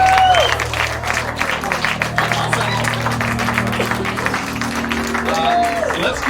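Applause and cheering from an audience at a live psychic stage show, a dense steady wash of clapping filling the whole stretch at moderate loudness, with scattered voices calling out and talk over it.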